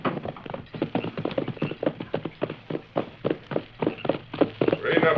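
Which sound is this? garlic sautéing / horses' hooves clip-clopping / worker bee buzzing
horses' hooves clip-clopping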